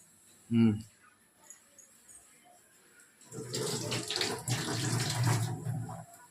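Tap water runs steadily over tamarind being washed for a village-style fish curry, a loud close splash lasting about three seconds after a brief knock and a quiet stretch.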